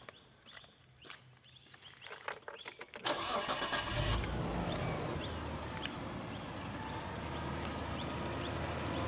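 A Nissan Skyline R31 wagon cranks and catches about three seconds in, then settles into a steady, smooth idle close by, with birds chirping faintly in the background.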